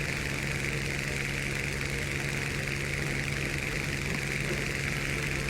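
Aircraft engine during takeoff in War Thunder, a constant dense mechanical drone with a steady low hum underneath, continuous and even throughout.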